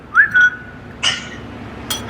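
A person whistles nearby: a quick rising note, then a short held tone, and after a pause a fainter whistled tone, with a soft clink-like tap between them and no talking.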